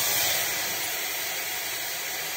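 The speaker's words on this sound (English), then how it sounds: "Next things next, pour some pasta water." Pasta water hits hot olive oil and pepper in a pan, giving a steady close hiss and sizzle that holds evenly from start to finish.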